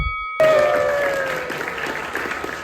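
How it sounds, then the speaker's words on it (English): An audience claps for a competition winner at an instructor training event, with a sudden start into steady, moderately loud applause that slowly fades. A faint tonal sound rings out under the clapping. "A round of applause."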